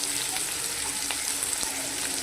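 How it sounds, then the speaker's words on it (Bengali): Flat beans fry in a pan with a steady, close sizzling hiss and a few faint stirring scrapes, with no voices. "সিমটা বেশি ভাজলে গলে যাবে, তাই অল্পই ভাজলাম"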